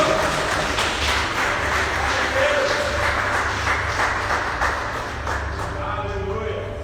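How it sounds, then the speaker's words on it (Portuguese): A congregation applauds during an evening church service in Brazil, a dense, continuous wash of many hands clapping close and loud that fades slightly toward the end. "Aplauda Jesus então nessa noite."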